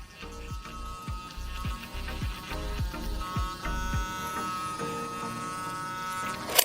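A Dr.Pen M8 auto microneedling pen buzzes with a steady high electric whine, joined early by a run of rapid low thumps as it is stamped against skin, with a brief louder knock at the end.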